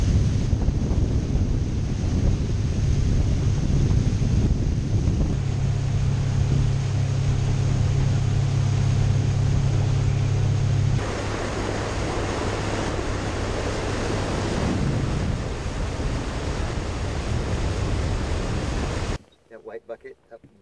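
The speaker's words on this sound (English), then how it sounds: "The wind in your face." Strong wind buffets the microphone over waves and surf during a fishing trip on the water, a loud continuous roar with a low droning hum beneath, ending abruptly in near silence.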